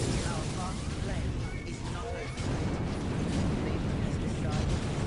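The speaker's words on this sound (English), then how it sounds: "these purple explosions, I believe are the bombardment ability which these Great Cabal Citadels have" Purple bombardment blasts from Great Cabal Citadels in Dawn of War: Ultimate Apocalypse, during an Eldar versus Dark Eldar battle. They form a loud, dense, continuous barrage of rumbling explosions and crashes with no gaps.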